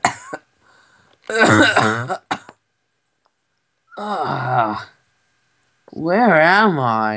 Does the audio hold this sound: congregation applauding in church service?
no